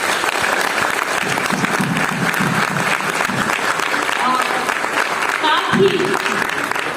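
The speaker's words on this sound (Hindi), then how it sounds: "सभी लोगों की ओर से जोरदार ताली चाहती हूँ।" Event audience in Chhattisgarh, India clapping loudly at a reward and recognition ceremony, dense sustained applause that is close and continuous for the whole stretch, with no break.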